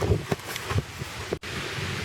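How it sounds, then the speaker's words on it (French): Steady wind gusting across the microphone, a low rumbling roar with a few stronger buffets and a brief dropout. "il y a du vent pas mal"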